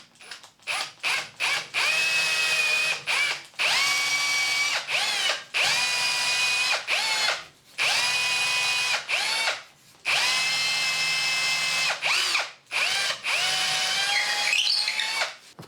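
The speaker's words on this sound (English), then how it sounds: "I'll now drill these all the way through." A power drill bores through a homemade mixer tap handle removal tool in repeated bursts, its motor whining up and then spinning down between passes, close and loud with short silent pauses.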